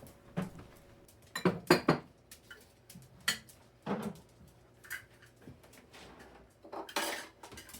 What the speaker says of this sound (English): putting clean dishes away, and wiping down some surfaces